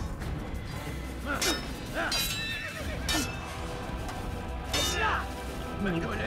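A horse in the Assassin's Creed video game lets out several loud neighs and whinnies, mixed with hoof clip-clops and fighting clatter, repeated bursts over game background sound.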